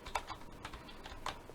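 Quick bursts of typing on a cheap 60% mini keyboard, keys clacking close to the mic in an irregular rhythm of separate strokes, no voices.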